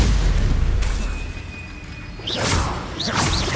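Stupefy spell blasts in Hogwarts Legacy, booming impacts with whooshing bursts, a rumbling hit followed by two sharp swishing blasts.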